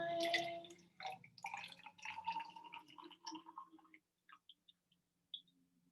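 Water runs into a container up to a 250 millilitre line for about four seconds with a steady, gurgling fill, then stops, leaving a few faint drips and small clinks.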